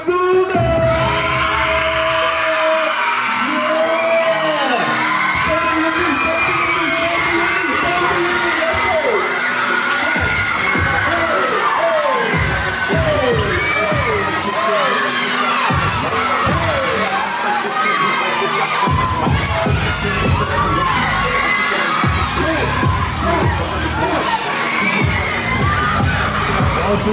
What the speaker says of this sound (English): Make some noise for Ron Suno